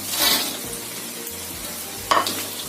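Fried shrimp is stirred in a pan with ginger, garlic and chili. Oil sizzles steadily as a utensil scrapes through the pan, with one sharp metallic clink near the end.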